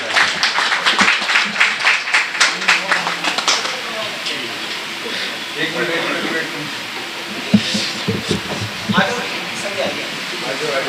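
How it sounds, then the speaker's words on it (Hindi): Audience at an award ceremony breaking into rhythmic clapping, loud and close at first, then thinning into scattered claps under voices and room noise. "एक जोरदार तालियों से"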